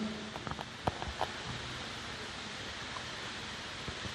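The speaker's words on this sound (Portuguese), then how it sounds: "Eu não sei se vocês estão escutando o som da chuva" Steady rain falls outside during a church service, a continuous soft hiss with a few faint taps and thumps near the start.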